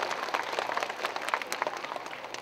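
An audience at a seminar on vocational study in Germany, held at a school, claps in a dense, steady patter of many hands, fairly loud and continuous, tapering slightly toward the end.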